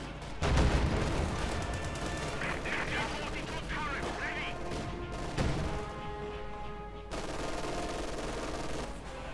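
Pak 40 anti-tank gun firing in the WWII strategy game Company of Heroes 2, a sharp close blast followed by further gunfire and explosions in a dense battle mix, with a commentator talking throughout.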